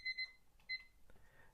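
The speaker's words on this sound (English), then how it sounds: "And there goes the timer." A household timer goes off, giving a few sharp electronic beeps in a quick uneven pattern, two close together and then one more, with quiet background noise between.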